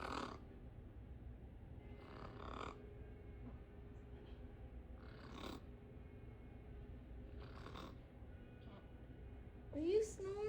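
Pet parrot imitating snoring: rhythmic rasping snore-like breaths repeating about every two to three seconds, fairly quiet, with a brief squeak near the end and speech faint in the background.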